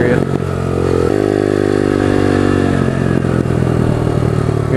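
A pit bike engine drones loudly and steadily at close range while riding, its pitch rising and falling slightly as the throttle changes, with wind noise throughout and a voice partly buried in the roar.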